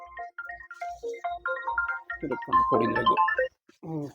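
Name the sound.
mobile phone ringtone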